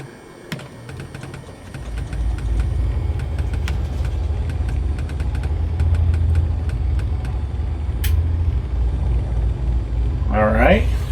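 A Baron 58 engine in the X-Plane 12 flight simulator cranks with a few clicks, then catches into a steady low rumbling idle that builds and holds; a brief voice speaks near the end.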